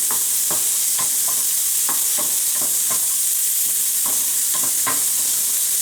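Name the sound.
capicollo frying and sizzling in a pan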